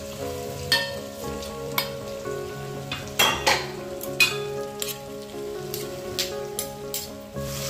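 Peanuts and garlic hit hot oil with fried green chillies, crackling and popping in irregular bursts alongside clinks of a spoon against the pan, close and fairly quiet.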